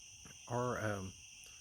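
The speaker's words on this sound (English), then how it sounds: "Don't know if you can hear the frogs and the bugs." Night insects chirp in a steady high, thin drone, with a faint croaking frog or similar call rising briefly in the middle against a quiet background.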